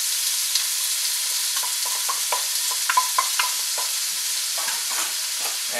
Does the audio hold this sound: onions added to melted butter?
yes